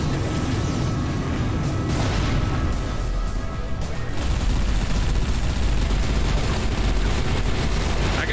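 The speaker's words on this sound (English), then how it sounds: "See all that explosions? See all them explosions right there?" Dense, continuous barrage of sci-fi gunfire and explosions from the space combat game Everspace 2, loud and sustained with overlapping bursts and blasts, no voices.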